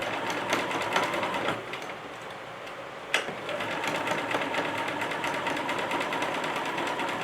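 A sewing machine stitching fabric with white thread, a fast steady mechanical whir with a clear needle rhythm, close, with a brief pause and a sharp click partway through before stitching resumes.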